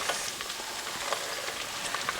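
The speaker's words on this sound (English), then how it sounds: "Now we're gonna add our onions and carrots in" Onions and carrots sizzle with bacon in a pan, giving a steady crackling fry with small pops and no voices.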